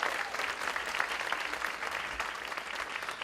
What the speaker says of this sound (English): let's give them a big round of applause for putting on such a great show